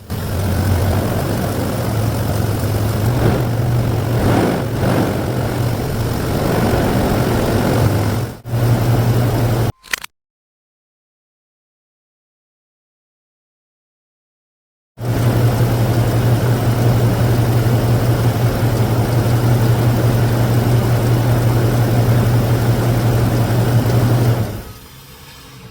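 A truck engine idles steadily after a cold start, giving a loud, even low rumble that drops out briefly and then resumes.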